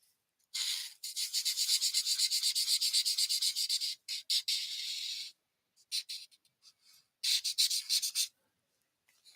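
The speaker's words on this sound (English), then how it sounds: "Excuse that scraping." Paper scrapes in quick repeated strokes while tags are being made, a dry rhythmic rasping in bursts that stop and restart, close and fairly soft with no talk.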